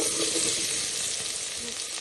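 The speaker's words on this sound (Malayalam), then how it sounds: "ഉള്ളി ഒന്ന് വാട്ടിയെടുക്കട്ടെ." Onions for chicken biryani sautéing in a pan with a little salt, a steady close sizzle and frying hiss that runs unbroken throughout.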